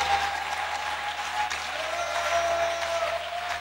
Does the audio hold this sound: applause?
yes